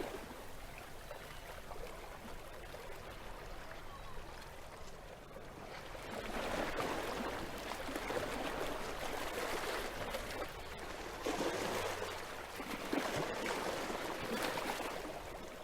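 Water washing and lapping around a paddle wheel boat at sea, a steady broadband wash that swells louder partway through, continuous and close with no voices.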